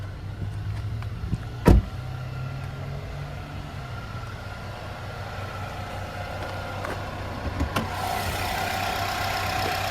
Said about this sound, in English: there's that 2-liter turbocharged 4-cylinder